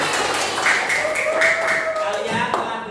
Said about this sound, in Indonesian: alhamdulillah tepuk tangan untuk kelas 5 semuanya.